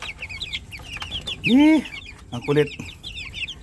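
Green-legged Bulik gamefowl chickens cluck and squawk nearby, with a loud drawn-out call in the middle and a shorter one after, over background chirping and a brief spoken remark.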